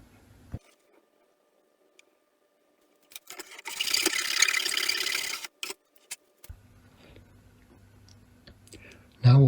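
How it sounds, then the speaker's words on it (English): A fine saw cuts fret slots across a parlour guitar fretboard in a short burst of rasping, scratchy strokes, with scattered clicks and handling sounds before and after, faint and close. "Now all the fret slots are sawn"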